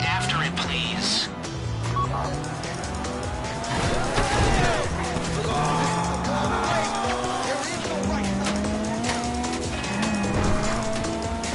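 A heist car driven in GTA 5 Online, the engine rising and falling through repeated gear changes with tire squeals and skids, close and continuous, with other game noise mixed in.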